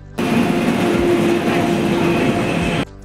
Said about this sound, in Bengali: আমরা যে ট্রেনটায় যাব সেটা চলে এসছে।